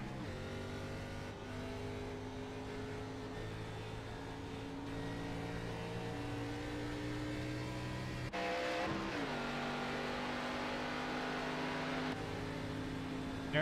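ARCA stock cars roar around the track, their engines droning in layered tones that shift abruptly as one car passes another down the back straightaway, a sustained, fairly distant racing din.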